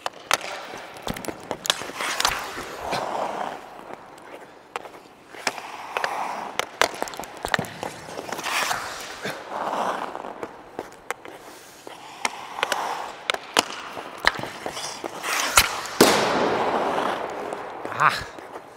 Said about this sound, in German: Ich spiele die Scheibe einfach gegen eine Balke und versuche sie dann mit der Vorhand wegzufischen